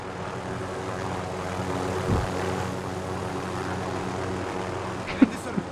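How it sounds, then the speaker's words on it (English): A helicopter in Call of Duty: Modern Warfare holds position overhead, its rotor and engine a continuous droning rumble at an even level throughout, with a couple of short sharp knocks near the end. "I'm gonna keep the helicopter up here just in case you need it."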